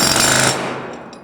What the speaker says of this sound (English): had to use jackhammers to get the cement out of